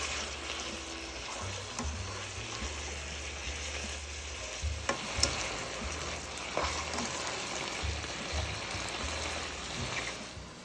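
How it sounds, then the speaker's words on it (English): Meat sizzles and fries steadily in a pan with olive oil and chonies, a continuous crackling hiss with occasional stirring clicks, close and moderately quiet, with no talking. "So the meat is still cooking."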